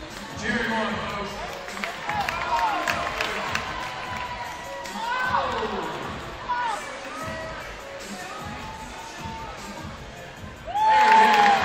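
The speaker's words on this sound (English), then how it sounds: "Cheer him on, folks." A basketball crowd at a high school tournament game, Berkmar vs Long Island Lutheran at the Arby's Classic, cheers and shouts in a large gym, with an announcer's amplified voice over the noise and a louder swell of cheering at the end.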